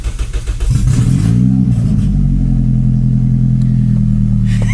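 An old car engine cranks briefly, then catches and settles into a loud, steady running drone after a battery is fitted, close and alone.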